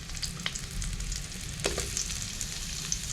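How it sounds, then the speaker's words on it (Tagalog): Onion sautéing in hot oil while cooking sinigang with salmon head gives a steady, close crackling sizzle with scattered small pops, quiet but continuous throughout and with no voices. "the oil and now we'll place the onion for sauteing"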